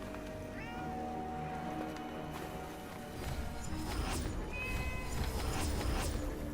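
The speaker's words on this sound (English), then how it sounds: "Is there a cat somewhere?" A cat meows a few times, faint and somewhat distant, behind a continuous layer of video-game music and effects.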